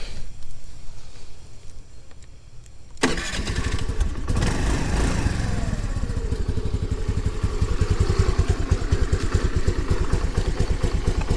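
A 2022 Honda NAVI motorcycle engine, running too rich with a low idle stumble, cranks and fires after a few quiet seconds, then settles into a loud, close, uneven idle with a steady pulsing beat.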